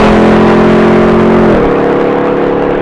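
A supercharged Ford F-150 pickup drag racing against a RAM TRX roars loudly and steadily under hard acceleration, its engine tone climbing, then dropping briefly at a gear change before pulling on.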